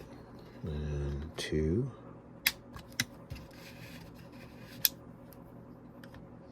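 Plastic retaining tabs on a Mk3 VW Cabrio heater control panel release during disassembly, giving a few sharp, close clicks spaced apart after someone speaks briefly counting.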